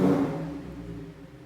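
A Lamborghini engine catches and roars into a loud revving rumble, then settles quickly. No one speaks.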